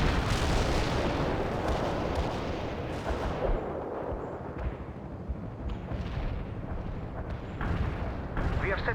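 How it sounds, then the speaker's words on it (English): Artillery barrage in the real-time strategy game World in Conflict, heavy rolling booms and rumbling blasts layered over one another, loud at first then easing before swelling again, with voices speaking over the bombardment. "Artillery strike successful."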